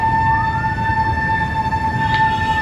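Loud, close fire truck siren wailing as a steady two-tone drone over street noise at a fire scene, with no talking.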